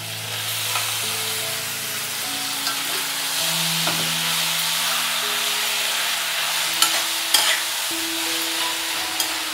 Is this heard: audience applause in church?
no